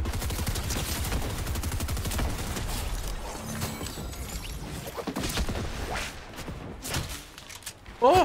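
Rapid gunfire in a Fortnite solo match, with bursts of shots and crack-like hits, a headshot among them, close and loud over game ambience, ending in a sharp final impact.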